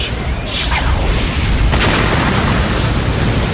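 An animated wind style pressure damage attack from Naruto Shippuden erupts in a loud, broad roaring blast that rushes and rumbles continuously throughout.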